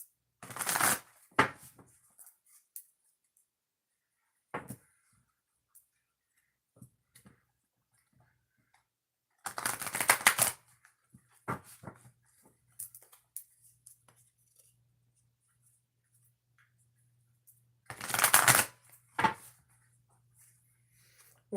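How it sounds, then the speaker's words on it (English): Three separate bursts of riffling cards from an oracle deck, each lasting about a second, spaced several seconds apart with quiet handling noises and light taps in between. "to shuffle the deck, and then we'll get started in your reading"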